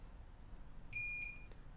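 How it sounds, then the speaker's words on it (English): A soldering iron base station gives a single steady electronic beep as it comes up to temperature, fairly faint over a low background hum and lasting about half a second. "So if you guys heard the beep"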